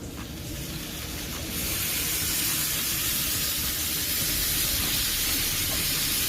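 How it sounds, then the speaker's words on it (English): A mix of apple cider vinegar, chicken stock and water is sprayed onto pork for barbecue, a loud, close, continuous hiss that kicks in after a quiet start and holds steady to the end. "I'm gonna go ahead and spray it down really quick."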